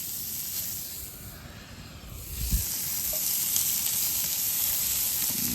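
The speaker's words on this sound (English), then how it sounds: "Cut the Spam into thin slices. Throw it on this cast iron." Thin slices of Spam sizzle and hiss on a cast iron pan outdoors, a steady frying crackle that stays close and fairly loud, with a brief clatter partway through and no talking.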